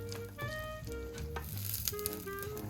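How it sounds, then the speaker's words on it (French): Bread cubes fry gently in butter in a pan for croutons, a soft, steady sizzle under faint musical tones, quiet and close, with no voices. "quand le beurre commence à merveilleusement chanter, vous y mettez les morceaux de pain et on va les laisser griller gentiment"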